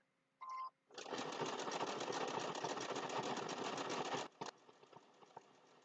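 A sewing machine stitches fabric for a pumpkin-shaped snack mat, running in one short burst and then a steady, fairly loud run of about three seconds before stopping, with no talking.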